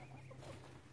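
Soft, low clucking from chickens scratching through a spent maggot bucket over a steady background hum, faint and close, with no voices.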